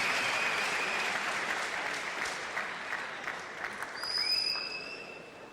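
Crowd applause at a China versus Germany table tennis match fills the arena with steady dense clapping that slowly fades, and a brief high whistle-like tone is heard near the end.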